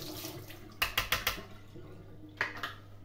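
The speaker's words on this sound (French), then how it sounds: "Donc on va rincer le panier." Vacuum cleaner's dust basket rinsed under a running tap, with a continuous hiss of water broken by a quick series of sharp knocks and splashes, then two more clatters near the end.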